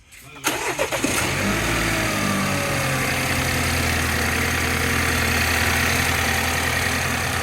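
A BMW X1 xDrive, just fitted with a replacement turbocharger after a limp-mode fault, starts up and settles into a steady, close idle with constant engine drone throughout.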